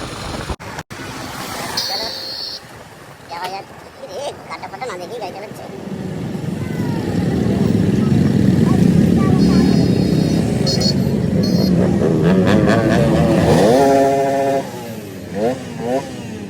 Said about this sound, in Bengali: তোমরা দেখতে পাচ্ছ বাইকের সেই লেভেলের আওয়াজ করছে